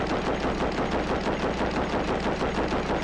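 A remote-controlled turret in Rust fires a continuous rapid automatic stream of shots. The sound is loud and unbroken for the whole stretch, with no voices.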